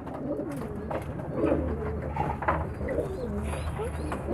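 Pigeons coo close by in soft repeated throaty calls, several overlapping bursts around a steady low background, with a voice talking intermittently over them.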